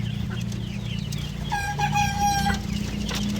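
Hens cluck and murmur in a short rhythmic series over a constant low machine hum, moderately close and not very loud.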